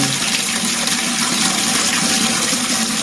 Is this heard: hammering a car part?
no